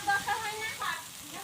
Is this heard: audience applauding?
no